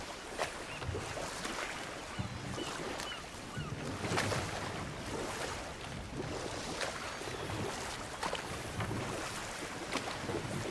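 A waterfall in the video game God of War Ragnarök rushes as a constant, fairly faint roar under scattered splashy surges, heard with no voices.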